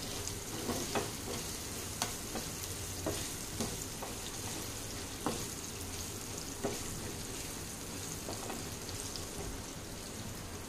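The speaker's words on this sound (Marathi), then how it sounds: "ते आता छान मिक्स करून घ्यायचं." Raw mango pickle ingredients being mixed, with steady scraping and stirring and light clicks of a utensil against the bowl over a soft continuous background hiss.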